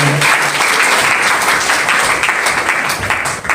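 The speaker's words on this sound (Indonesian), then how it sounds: "Kasih tepuk tangan yang meriah bagi Tuhan kita saudara." A church congregation applauds during a worship service, steady dense clapping filling the space loudly from start to finish with a faint hum of voices beneath.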